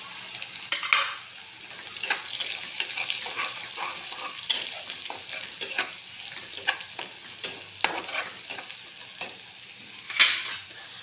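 Cumin seeds sizzle steadily in a hot pan while a utensil scrapes and stirs them with frequent small clicks, close and continuous throughout.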